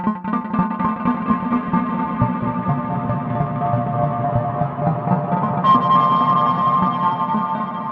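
Strymon StarLab Eurorack reverb module in low mode thickening a sustained synth tone, with a steady, dense wash of low-end reverberation that swells slightly toward the end as a brighter note enters.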